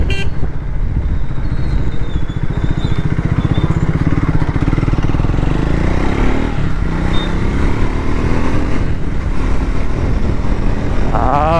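A motorcycle engine drones steadily at high revs on an open road in top gear, loud and close throughout, with wind rush and a brief horn-like tone near the start.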